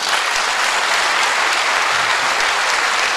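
Loud, steady applause from a large audience at an awards evening, a dense wash of clapping that holds evenly throughout with no voices on top.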